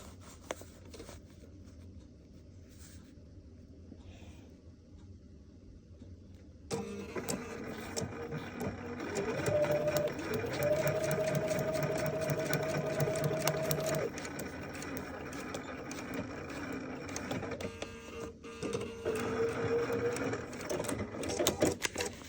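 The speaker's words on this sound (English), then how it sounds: "so I'll take it to my sewing machine." Quiet handling sounds give way to a sewing machine running steadily for several seconds, a rapid mechanical stitching whir up close with brief pauses.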